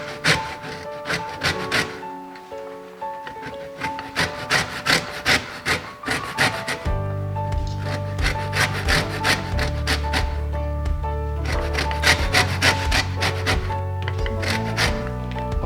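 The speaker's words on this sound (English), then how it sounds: "We need to grate some lemon." Lemon being grated for zest, a steady run of quick rasping scrapes in a fast rhythm, close and fairly loud, with a brief pause before the strokes resume and continue to the end.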